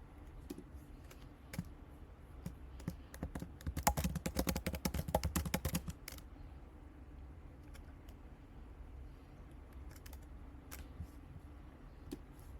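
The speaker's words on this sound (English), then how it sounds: "So you could type something like this" Typing on a computer keyboard, a quick burst of close, rapid key clicks in the middle with scattered single taps before and after over faint background hum.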